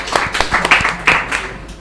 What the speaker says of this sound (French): On applaudit pour elle aussi.